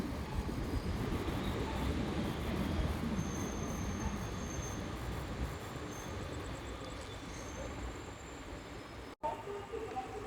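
A MEMU electric multiple-unit train at Godavari railway station, on the Narasapuram–Rajahmundry line, rumbles with a loud, steady broadband roar and faint high whines, easing slightly toward the end, while a voice may be faintly present.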